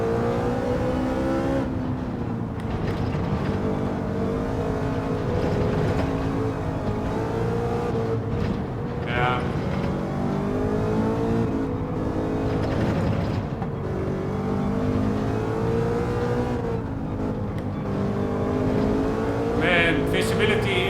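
A race car engine in Gran Turismo 7 revving continuously, climbing and dropping with gear changes through corners, loud and close throughout, with no talk over it.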